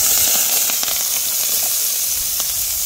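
Onions sizzling in hot oil in a pan over an outdoor riverside cooking fire, a steady close hiss and crackle running without pause, with no talk over it.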